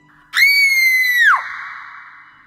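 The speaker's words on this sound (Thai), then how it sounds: "เสียงกรีดร้องจากใครก็ไม่รู้ดังขึ้นจนได้ยินอย่างชัดเจน" A single loud, high-pitched scream rings out sharply, holds steady for about a second, then drops and trails off into a fading tail, heard alone as a horror effect in a Thai ghost story.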